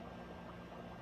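Dry ice bubbles vigorously in a bowl of water, churning out fog: a dense, steady rush of boiling-like fizz and gurgle, loud and close, with no pauses.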